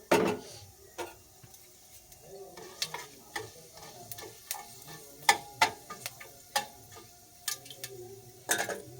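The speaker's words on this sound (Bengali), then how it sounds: "এখানে আমি 5 ফোড়ন দিয়ে দেব, অল্প একটু। আর ছোট্ট একটা তেজপাতা দিয়ে দেবো" A pinch of Bengali five-spice and a small bay leaf hit hot oil for a vegetable dish, giving scattered sharp crackles and pops over a faint low sizzle, quiet and close, with no talking.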